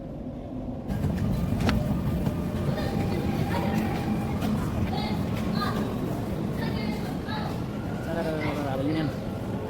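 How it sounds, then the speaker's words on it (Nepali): Steady rumble and whine of a Dubai Metro Green Line train in motion, heard from inside the carriage for the whole stretch, with faint voices in the background. "हामी एतिसलातको ग्रिन लाइन मेट्रो चढेर सरर पुगे युनियनको रेड लाइन मेट्रोसम्म"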